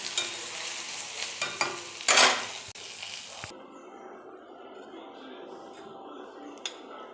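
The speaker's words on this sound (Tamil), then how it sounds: "இப்போ எல்லாத்தையும் சேர்த்திட்டு ஒரு கிளறிட்டு மூடி வச்சிடலாம்." Brinjal (eggplant) fry seasoned with turmeric and salt, stirred in a pan with a few scraping strokes over a gentle sizzle, one sharper clatter midway, then a quieter, duller sizzle.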